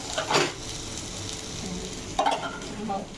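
Bhola fish curry frying in a pan with a steady low sizzle, plus a couple of brief clinks or stirring scrapes near the start and again about two-thirds through.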